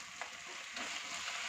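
Beef keema with lemon juice, crushed green chili and coriander is stirred in a hot pan, a soft continuous sizzle with scraping spoon strokes and a few brief clatters.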